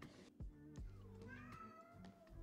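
A cat meows several times close up, drawn-out and varied in pitch, at a low overall level with a person's voice partly underneath.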